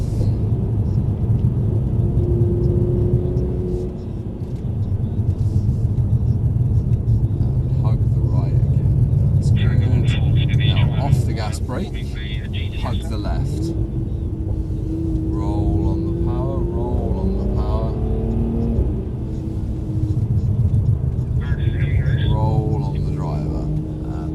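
Mercedes CLS coupe driving on a track under braking and cornering, with a steady low engine and road rumble throughout, swelling and easing as it brakes and accelerates, while an instructor talks over it.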